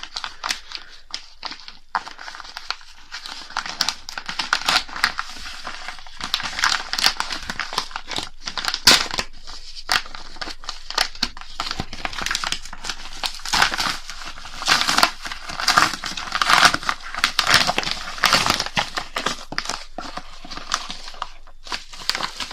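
Cardboard parcel holding an Arduino kit being opened, with continuous crinkling, tearing and rustling of packaging and paper, close and fairly loud, in irregular bursts with no talking.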